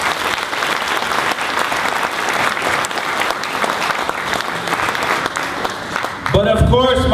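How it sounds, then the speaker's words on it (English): Audience applause at a Chabad event with a rabbi, sustained loud clapping from a large crowd that swells near the end, with a voice heard over it at the close. "Let's give them a round of applause."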